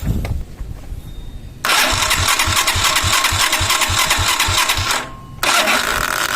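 An electric starter motor powered by a battery plus capacitor cranks an engine in a fast, steady whir, loud and close, pausing briefly before cranking again.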